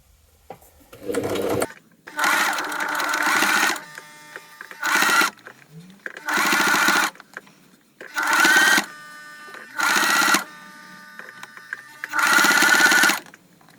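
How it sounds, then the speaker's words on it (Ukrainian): Sewing machine stitching a finishing seam on homemade slippers, several loud bursts of rapid whirring a second or two long with short pauses between them, close up, and a voice speaks briefly in one gap. "Робимо відділочну строчку."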